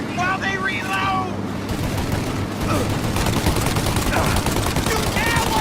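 Heavy gunfire in Mafia: The Definitive Edition, a loud continuous barrage of rapid shots like a machine gun, with shouting voices faintly audible over the clatter.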